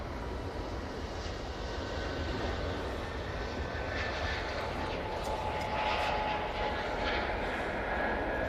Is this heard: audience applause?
no